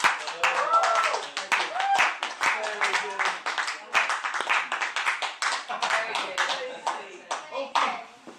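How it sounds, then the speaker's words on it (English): A parlour magic show audience claps for a volunteer, sharp close hand claps over a lively crowd. A few voices, including a child's, chatter underneath, and the applause stays brisk and uneven throughout. "take your well-deserved round of applause for having it"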